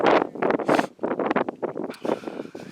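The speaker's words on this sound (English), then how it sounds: "first false peak here. Very windy." Strong gusty wind on a mountain false peak of Quandary Peak, Colorado, buffets the microphone in loud, rapid bursts, roaring and rumbling close up.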